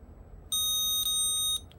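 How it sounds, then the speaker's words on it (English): A loud, piercing electronic beep from a Pebblebee tracker tag sounds up close in two quick, nearly continuous bursts, then cuts off. "Very loud beep."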